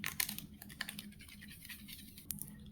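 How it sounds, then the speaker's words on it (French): Protective film peeled off a tempered glass screen protector for an action camera gives a quiet, close, crackly scratching with small rapid ticks, fading to faint rustle and one last sharp snap. "on va retirer le film transparent qui recouvre le verre trempé."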